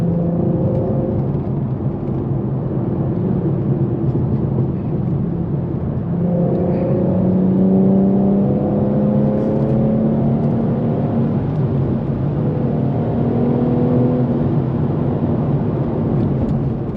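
A tuned E85-fueled Infiniti Q50S exhaust roars continuously through a hard acceleration pull, a loud, steady rumbling drone with rising harmonic tones as the revs climb, close to the car and with no talking.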